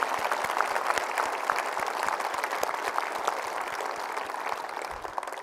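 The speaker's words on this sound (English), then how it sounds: "I think that deserves a round of applause." Steady audience applause at an Apollo 17 and Artemis event, a dense wash of many hands clapping that holds at a constant, fairly loud level for the whole stretch with no voices over it.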